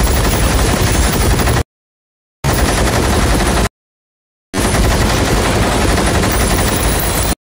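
Loud, sustained bursts of rapid machine gun fire, three long volleys separated by brief silences, with dense, continuous crackling throughout.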